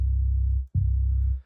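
Two deep sub bass notes from the Citrus synthesizer's Sub Bass 2 patch, the second starting with a soft plucked attack, each sustained and smooth before fading out.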